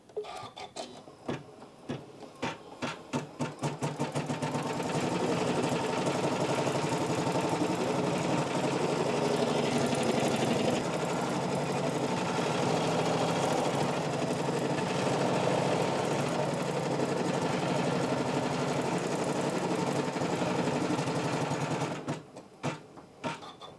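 A Janome CM17 sewing machine stitches a built-in embroidery design: a few short stuttering starts give way to a long, steady, rapid mechanical whir close by, ending abruptly near the end.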